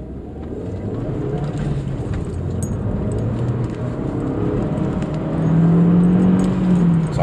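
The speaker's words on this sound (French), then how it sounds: "je vais essayer de faire un 0 à 100 mais c'est pas gagné parce que j'ai pas une grande distance et en plus il pleut." A sports car launches hard from a standstill on a wet road in the rain, the engine note rising and growing louder as the wheels spin, with a steady wash of road and rain noise underneath.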